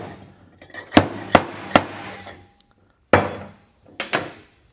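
Gold-bearing white quartz rock being crushed by hand, sharp hard knocks in two bursts, three evenly spaced strikes then a pause and two more, close and loud with brief gritty rattling after each hit.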